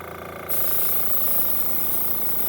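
A single action airbrush sprays paint with an air compressor feeding it, a steady close hiss that starts abruptly after a brief quieter moment and holds without pause.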